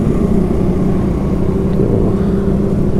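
Dense traffic crossing the Ravi bridge in Lahore, many motorcycles among it, a loud, steady engine roar and road rumble filling the whole stretch without a break or any voices.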